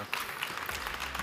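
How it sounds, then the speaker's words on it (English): Applause from a conference audience for a panel at a tech event, a short burst of many hands clapping at moderate volume, brief and continuous. "Please give a great applause to this panel today."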